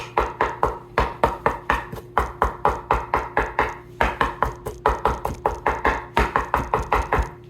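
Knife chopping ceviche ingredients roughly on a cutting board, a steady run of close, sharp taps in quick bursts with brief pauses between groups, no talking.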